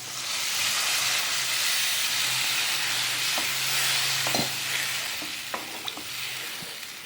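A pan of fish curry base sizzles steadily with a constant frying hiss, broken by occasional scrapes and taps as the mixture is stirred close up.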